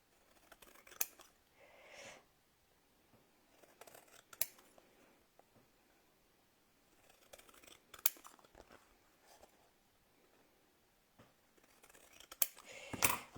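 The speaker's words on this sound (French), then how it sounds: "je prends mon ciseau et je coupe là où j'ai fait les traits" Scissors cutting paper along drawn lines for a handmade mini album cover, giving quiet crisp snips spaced out over a soft background, with a few sharper clicks and rustles near the end.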